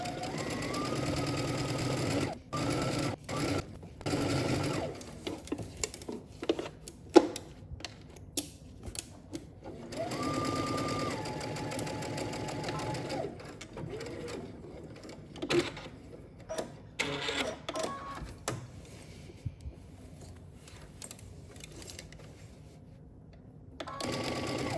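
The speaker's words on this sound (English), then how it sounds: "we can go ahead and stitch around the pocket." A sewing machine stitches around a dress pocket in long continuous runs, its rapid mechanical whir broken by short pauses and clicks as the fabric is turned.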